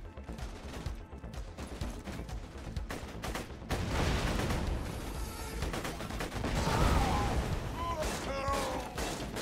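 A fireworks grenade in the video game Borderlands 2 goes off amid a burst of crackling, popping blasts and gunfire, loud and continuous, with bright whistling sparkle near the end.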